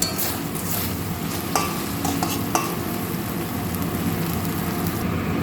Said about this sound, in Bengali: এখানে কিছু ধনেপাতা কুচি দিয়ে আমি মশলাটা কষে নেব